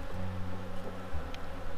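Honeybees buzz steadily around a small beehive nucleus colony in winter, a low continuous drone with slight wavering, close and fairly quiet with no talk over it.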